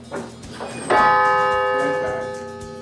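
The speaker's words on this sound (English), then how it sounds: "Now the bells ring at the Alumni Center." A large campus bell strikes once and rings on with a long, slowly fading resonance after some faint background voices.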